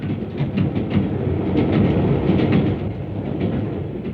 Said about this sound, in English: diesel multiple unit trains have been selected